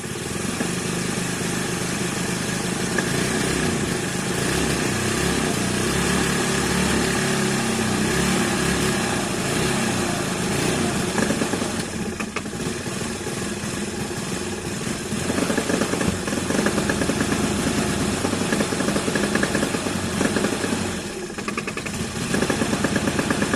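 A small engine running rough without its auto choke, a steady close buzzing drone that dips and falters partway through before picking up again, heard alone without talk.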